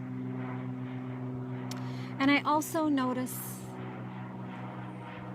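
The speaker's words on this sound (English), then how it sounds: "a plane going by. I hear it as it drones" An airplane passing overhead makes a steady low drone that runs throughout. A voice speaks briefly over it.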